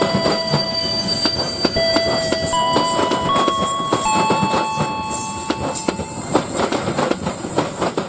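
A train departs a station in a video game: steady rolling rail noise with repeated wheel clatter and high, drawn-out squeals of wheels on track throughout, with no voices.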